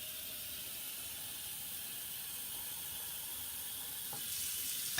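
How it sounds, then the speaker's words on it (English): Water runs steadily into a sink to refill it, a soft continuous hiss that grows slightly louder toward the end, with no talking. "So I'm actually going to dump this water out and start some new water."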